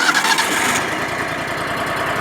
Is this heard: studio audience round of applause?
no